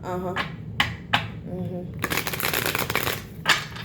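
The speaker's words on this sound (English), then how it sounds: "I shuffled them the wrong way." Tarot cards are shuffled by hand in a quick series of crisp riffles and slaps, with a dense flurry near the end; a voice speaks softly around the shuffling.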